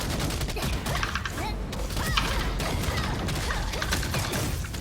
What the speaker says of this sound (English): I always use my Iron Cannon Blow first